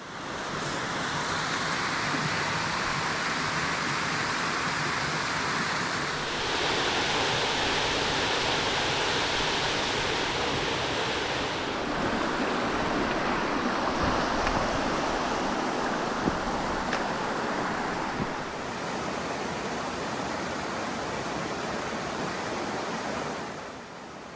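Steady rushing water of a stream beside a spring mountain trail fills the whole clip, a broad continuous roar like a small cascade close by, with no talking.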